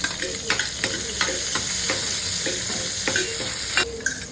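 Chopped onions sizzle and fry in a pan with cardamom, bay leaf, cinnamon and cloves, over a steady hiss of hot oil, with a spoon scraping and stirring at regular intervals.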